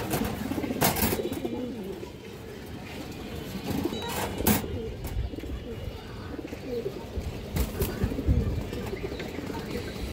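Female pigeons kept at a pigeon market, with low cooing and bird calls running steadily through the clip under background chatter and occasional sharp knocks.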